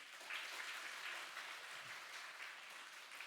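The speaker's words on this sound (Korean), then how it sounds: "박수 한번 쳐주실래요?" A church congregation applauds during a Sunday morning worship service, a faint, distant and steady patter of many hands clapping with no voices over it.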